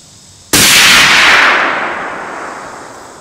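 A single sharp, loud report from a Christensen Arms .300 Win Mag rifle fitted with an Omega 300 suppressor, followed by a long echoing decay that fades over a few seconds.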